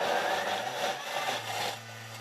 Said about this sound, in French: On va mixer.